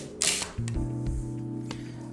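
A Nikon F501 SLR film camera fires its shutter with a crisp mechanical click, followed by a short whirring film advance, heard up close.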